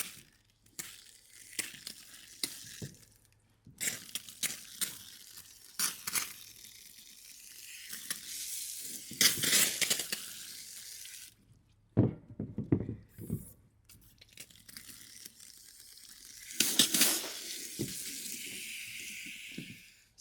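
Hiking boots being rinsed under running water to flush out their creases, giving intermittent bursts of splashing and hissing water with scrubbing and crinkling handling noises between quieter pauses, close up.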